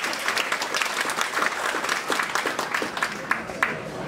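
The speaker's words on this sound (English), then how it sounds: "Please give them a applause." Audience applause at a Bellevue city council campaign fundraising dinner, a dense room-filling patter of clapping hands that holds steady throughout, with a few louder close claps near the end.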